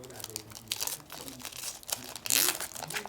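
A foil trading card pack, a 2019 football release, is torn open from the top by hand. Close crinkling and crackling of the foil come in irregular bursts, ending in a louder, sharper rip.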